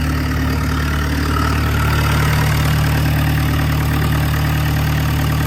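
A diesel engine, a 1.7 litre fitted with a turbo taken from a 1.9, runs at a steady, loud idle after starting, with a constant low drone and no talking over it.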